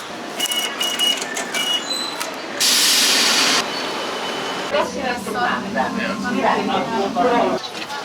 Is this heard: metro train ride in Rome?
yes